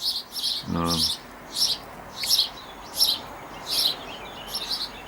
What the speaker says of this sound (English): It's the house sparrow.